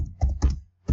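A computer keyboard clicks as a command is typed. Three or four quick, close keystrokes come in an uneven burst within a second, with no voice over them.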